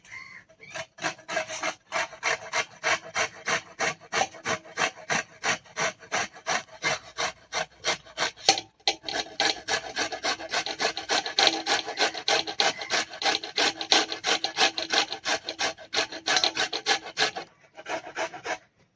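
Carrots rubbed against the fine side of a grater for carrot barfi make steady, rhythmic rasping strokes, close and clear, in a long series with a brief pause midway and no talk.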